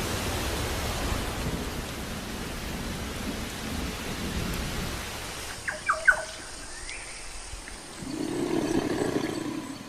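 Heavy wet-season rain pours down in a dense, steady hiss. Partway through the wash thins, and a few sharp squeaks stand out before a low, rumbling swell of rain builds again.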